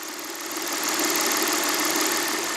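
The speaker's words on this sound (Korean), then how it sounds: "엔진 소리 한번 바로 들려드릴게요" Audi A6 3.0 FSI quattro V6 engine idling with the hood open, a steady, smooth, even hum heard up close and alone, without voices.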